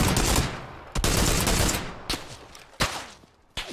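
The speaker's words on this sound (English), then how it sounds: "Guy's up by me shooting" Loud, close PUBG gunfire opens with a sustained roaring volley, then separate sharp shots ring out at uneven intervals as the noise trails off between them.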